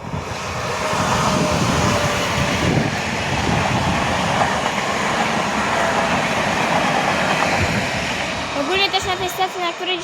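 A Pesa Dart train rushes through Warszawa Włochy station, a loud, sustained roar of wheels and wind close by for most of the span, with a brief voice as it fades at the end.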